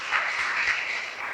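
Audience applause at a Tamil debate show, a steady wash of many hands clapping together, even and sustained throughout without a break.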